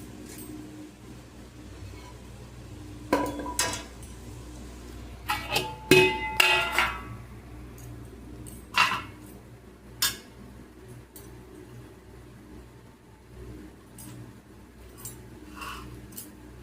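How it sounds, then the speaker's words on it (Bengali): A knife cuts the eyes out of a peeled fruit, giving scattered sharp clicks and taps of blade on fruit and board. They come in small irregular bursts, close and fairly soft over a quiet background, with no talk. "এবার এই চোখগুলো চাকুটা দিয়ে হালকা হালকা করে সব কেটে বার করে দেবো"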